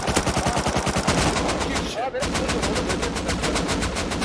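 Rapid automatic gunfire in the survival video game Rust comes as dense, evenly spaced bursts of shots, loud and close, with a brief pause midway before the firing resumes.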